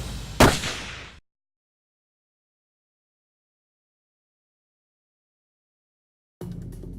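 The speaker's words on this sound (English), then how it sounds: "I think I'll shoot him. Here goes." A single loud rifle shot fired at a whitetail buck during a hunt in the Nebraska Sand Hills cracks sharply up close, followed by a short fading echo before silence.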